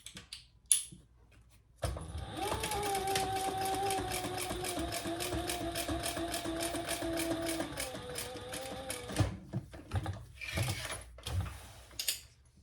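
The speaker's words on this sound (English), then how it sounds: "Going to fold those wrong sides together and top stitch." A sewing machine top stitching a fabric crossbody sling bag with the wrong sides folded together, running in one steady sustained burst of several seconds, then stopping for a few scattered handling clicks and rustles.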